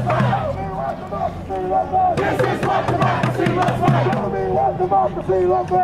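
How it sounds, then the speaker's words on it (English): Crowd of protesters gathered outside ahead of a 2016 presidential debate, shouting and chanting together in loud, sustained bursts with a babble of voices underneath. "Protesters have been gathering here since about 5:30 when we first arrived, and the crowd has grown ever since."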